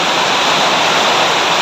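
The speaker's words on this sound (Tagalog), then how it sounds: "maghuhugas ng pinggan dito" Water runs hard and steady while dishes are washed at home on a rainy day, a loud continuous rushing hiss with no talk.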